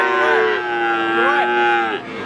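Cattle lowing at a busy morning cattle market in Blora, long deep moos overlapping from several animals, loud and close with faint market noise around.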